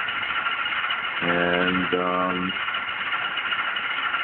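An SD70MAC model locomotive's ESU sound decoder imitates an NRE Genset diesel engine idling, a steady, rattling, mid-pitched rumble with a brief horn-like tone in the middle, heard over a narrow, lo-fi recording with a voice briefly talking.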